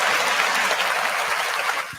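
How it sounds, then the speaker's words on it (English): Short burst of dense clapping from people in a podcast studio, steady for about two seconds and then fading. "Give him a hand and clap."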